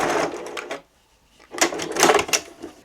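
A sewing machine back stitches a reusable kitchen cloth, two quick bursts of rapid mechanical clatter separated by a brief pause, close and fairly loud with no talk.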